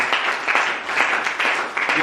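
Church congregation applauding together during a thanksgiving service, a steady, dense wash of clapping with a few louder swells, heard alone without speech over it.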